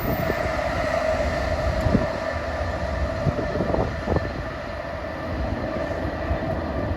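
Passenger train 173 from Boston to Washington roars past on the Northeast Corridor at Linden, New Jersey, a loud, steady rumble and rushing clatter that holds throughout, with some wind buffeting the microphone.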